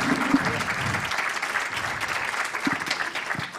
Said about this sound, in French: Je vous demande d'accueillir Joël de Ronet, s'il vous plaît, l'applaudir chaleureusement.